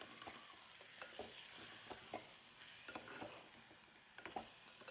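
Ground masala paste stirred and sautéing in oil in a pan for an Onam sadhya dish, giving a steady close sizzle broken by repeated scraping strokes of a spoon, with no voices.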